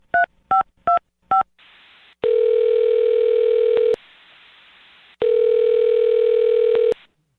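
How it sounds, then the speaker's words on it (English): Four quick touch-tone keypresses on a telephone, each a short beep, then two long steady dial-type tones with soft line hiss between them, loud and close with no talking. "I'm going to dial her phone number right now"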